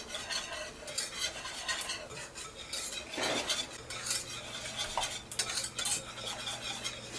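Oats being stirred in a pot for cooking, a spoon scraping and swishing in bursts with soft clinks against the pot and a faint sizzle underneath.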